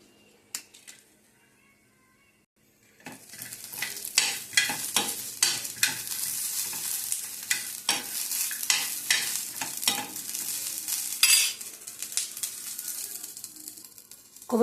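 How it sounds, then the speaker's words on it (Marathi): Chilies and ginger being dry-roasted in a pan for a raw mango thecha: a quiet start, then continuous close sizzling with frequent sharp scraping and stirring clicks from a spatula. "ते मिरच्या भाजून घ्यायच्या याच्यामध्येच आपल्याला घ्यायच्या आहेत"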